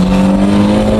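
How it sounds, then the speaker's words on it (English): A drifting car's engine holds a loud, steady high rev within the torque band, a constant close-up roar with a strong droning tone. "You have to keep revving it within the torque band."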